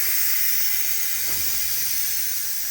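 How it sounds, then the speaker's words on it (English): Steam hisses steadily from a pressure cooker while Puerto Rican mondongo cooks, a loud continuous high rushing release with a faint low rumble underneath and no talking. "Just let the steam out."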